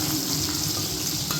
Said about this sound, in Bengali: দিয়ে আলুগুলো আগে ভেজে নেব একটু